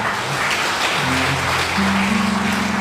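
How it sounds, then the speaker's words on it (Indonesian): Steady church congregation applause fills the whole stretch, dense and loud, with a sustained low tone ringing underneath. "Tepuk tangan yang meriah untuk Tuhan"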